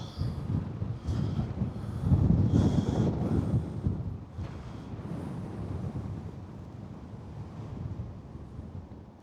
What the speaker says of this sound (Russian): тут ветрище прям такой